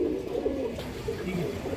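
Pigeons coo in a loft in cold weather, a low continuous murmur of several birds at moderate distance with no talk over it.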